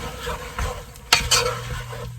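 Frozen green beans, warmed briefly in a microwave, are stirred into a pot of vegetable soup, giving scraping, clinking spoon strokes over a soft bubbling sizzle, with one sharp knock near the middle.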